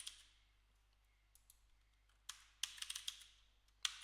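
Someone types a Python command into a bash shell on a computer keyboard, with a few scattered soft taps, then a quick burst of sharp, close key clicks and a final firm keystroke.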